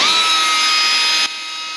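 Angle grinder cutting a relief slit in the metal cowl of a 1953 GMC truck, a steady high-pitched whine, loud and close, dropping in level as the cut eases near the end.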